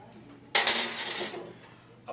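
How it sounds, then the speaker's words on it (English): Metal nuts and bolts dropped together, a sudden clattering jingle of small metal pieces that rattles and settles over about a second, with a faint final clink, close and alone. "nuts and bolts"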